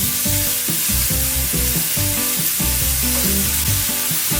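Bacon fries loudly in a pan, a strong steady sizzle and crackle that fills the whole stretch, close by with faint knocks of handling beneath it and no talking.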